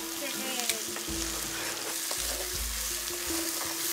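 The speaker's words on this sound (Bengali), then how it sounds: "টমেটোটার কাঁচা গন্ধটা চলে যাওয়া পর্যন্ত একটু নাড়াচাড়া করে নেব।" Tomato paste and spice paste fry and get stirred in a pan for chicken curry, with a steady close sizzle and a few scraping stirs. Low thumps sound now and then underneath.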